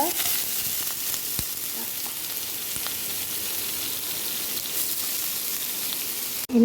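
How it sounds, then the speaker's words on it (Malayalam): Mustard seeds and dried red chili crackle in hot oil for a raw tomato stir-fry, a steady close sizzle dense with tiny pops, ending in a brief clatter. "നല്ലപോലെ മിക്സ് ചെയ്ത് വെച്ച് നമുക്ക് കടുക് പൊട്ടിച്ചമച്ച് ഇടാമേ"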